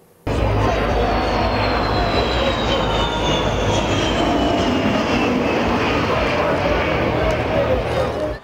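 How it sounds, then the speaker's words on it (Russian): Three Sukhoi Su-34 multirole fighter jets pass overhead, a loud sustained roar with a descending whine that swells in abruptly and holds before cutting off, with a voice speaking beneath. "В небе три многофункциональных истребителя Су-34."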